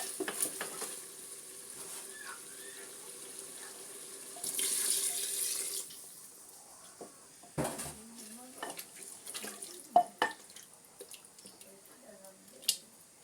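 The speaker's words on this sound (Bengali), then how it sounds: "এখন আমি পানি দিয়ে দেবো" Water is poured into a pan of braised chicken, a brief rushing splash in the middle among quieter clatter of a spoon against the pot and soft stirring noises.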